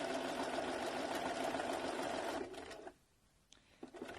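A sewing machine running a dense satin stitch hums loud and steady, then cuts off and goes quiet apart from a few faint clicks and handling taps near the end.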